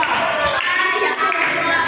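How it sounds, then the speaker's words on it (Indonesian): Applause from a class group at a school event, a dense wash of clapping hands throughout with a voice mixed in. "sekali lagi tepuk tangan untuk kelompok 4"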